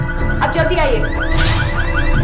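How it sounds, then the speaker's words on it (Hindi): The alarm of a green Volkswagen car is going off: repeated rising electronic chirps sound steadily and fairly loudly while someone speaks over them. "वो गाड़ी का अलार्म बज रहा है"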